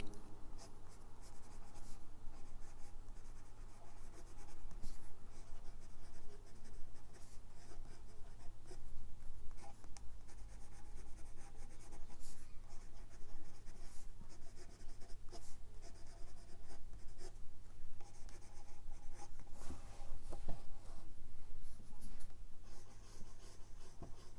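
A Schneider Ray fountain pen with a medium steel nib writes on paper in close, soft scratchy strokes, continuous with small pauses and quiet rustles, no voice present.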